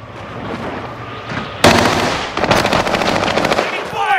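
Rapid automatic gunfire in a shooter video game, a sudden loud sustained burst of close shots after a moment of lower game noise, ending with a fading rattle.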